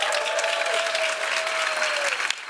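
Dense audience clapping for event organizers at a design gathering, steady and full throughout with a sustained tone running under it before it cuts off.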